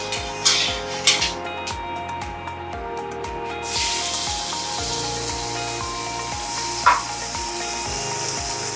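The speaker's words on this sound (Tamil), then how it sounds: "கடுகு பொரிஞ்ச உடனே வெங்காயத்தை போடணும்" Mustard seeds splutter and chopped onions fry in hot oil in a home kitchen, a soft steady sizzle with sharp crackling pops and a couple of louder bursts, no talking.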